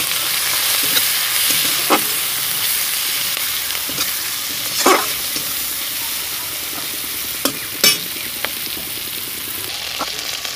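Onions drop into hot oil left from frying rui fish, giving a steady, close sizzle with a few sharp pops and crackles spread across it, and no talking.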